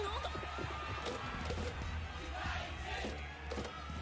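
A large crowd shouts and clamours at a tense confrontation, a dense, continuous roar of many raised voices with scattered louder yells and a brief crash-like burst, steady and fairly close throughout.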